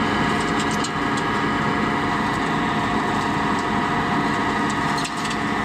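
A tractor PTO spinning a Doberkmet mulching mower up to 540 rpm: a steady, loud broadband mechanical roar with engine hum, continuous throughout with no talk.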